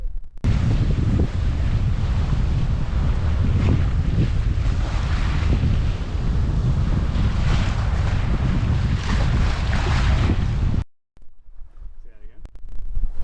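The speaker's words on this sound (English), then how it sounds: "Just jibed, and now we are going a slightly different direction, still downwind" A sailboat runs downwind just after a jibe, with heavy wind buffeting and the rush of water against the hull close by. The noise stays loud and constant until it cuts off abruptly near the end.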